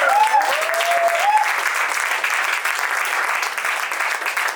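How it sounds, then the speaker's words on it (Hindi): An audience claps loudly and steadily after a stage play, dense continuous applause at close range. "एक बार जोरदार ताली"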